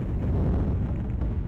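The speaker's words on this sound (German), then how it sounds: "Viele Explosionen um nichts" Explosions in the video game Syndicate: a dense, rumbling low-frequency blast roar that fills the moment continuously, heavy and muffled with no voices over it.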